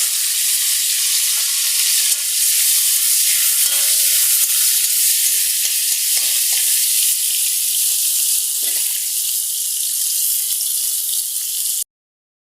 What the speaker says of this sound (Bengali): ফুলকপিটাকে একটু বেশি করে ভেজে নিতে হবে